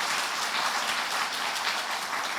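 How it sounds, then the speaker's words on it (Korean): Church congregation at a Sunday worship service in Namyangju claps in warm, continuous applause to welcome a newly registered member, a dense, even wash of hands throughout. "우리 큰 박수로 축복하겠습니다"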